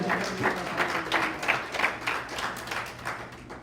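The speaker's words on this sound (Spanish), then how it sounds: "Dele un fuerte aplauso al Señor Jesucristo" A church congregation applauds during a Sunday service, a dense, steady patter of many hands clapping throughout.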